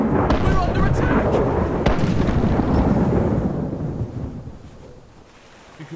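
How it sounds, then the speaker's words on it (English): Ship cannons boom in the naval combat game Rise of Piracy, a dense, loud barrage of blasts and rumbling roar over wind and water noise, with a voice talking throughout before the din fades slightly toward the end. "Fire a cannonball at a high angle."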